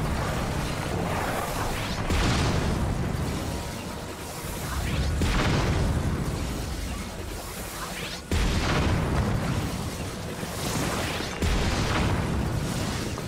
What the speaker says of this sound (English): Just blow all these guys to smithereens.